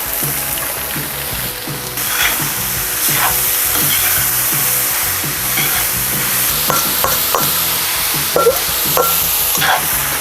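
Chopped vegetables tipped into browned meat frying in a kazan for Cossack-style buckwheat, giving a loud, continuous sizzle with repeated stirring scrapes and clatter close by.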